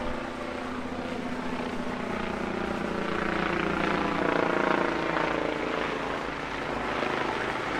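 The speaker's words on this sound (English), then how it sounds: "Here comes a, let's say a medevac helicopter." Medevac helicopter flying over Norfolk harbor during a tall ships festival, a steady distant rotor and engine drone that swells slightly and fades, with no talking.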